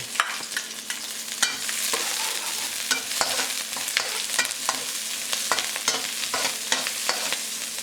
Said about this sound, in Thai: ใส่พริกกับกระเทียมลงไปเลย